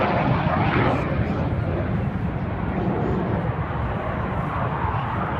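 Red Arrows jets roar past at an outdoor air show, a loud, continuous broadband rumble of jet engines sustained throughout without a break.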